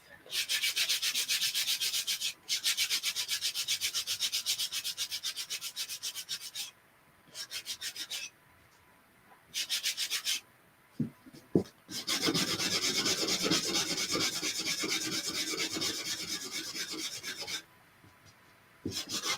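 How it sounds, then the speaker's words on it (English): Sandpaper scuffs the edges of a slick-surfaced craft piece, producing fast, gritty back-and-forth rubbing in long bursts broken by short pauses. It sounds close and fairly loud, with no voices. "Just trying to get some of that slick surface off."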